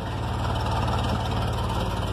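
A Ford engine idles steadily at about 700 RPM on a cold start without choke, with an even low throbbing rumble, loud and close, and no voices.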